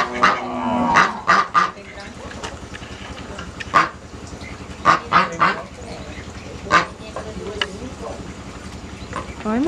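Farm ducks quack and honk in repeated bursts, some close and loud, with a voice talking faintly underneath.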